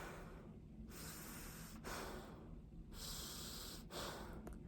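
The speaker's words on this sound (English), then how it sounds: "I'm gonna breathe from my nose." Slow, deliberate breaths in through the nose while wearing a silk face mask, four airy inhalation-and-exhalation cycles about a second apart, close and soft, with no talking.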